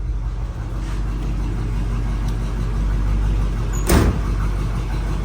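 A 1979 Oldsmobile Cutlass Supreme engine idling while warming up, a steady low rumble heard from inside the car, with a brief clunk partway through.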